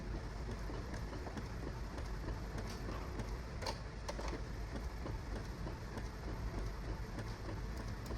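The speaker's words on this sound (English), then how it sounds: "First photo printing out." A TUOLI compact photo printer runs steadily while feeding out and printing a photo, giving a continuous, even mechanical whir with faint ticking throughout.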